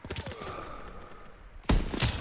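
Sniper rifle shots ring out in Call of Duty WWII during the Battle of the Bulge, two sharp, loud cracks near the end following quieter game ambience.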